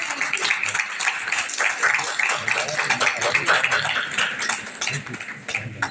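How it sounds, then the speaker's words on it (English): Audience applause at a women's cancer awareness conclave, steady dense clapping filling the room for several seconds with cheers and voices mixed in. "give it a big round of applause, ladies"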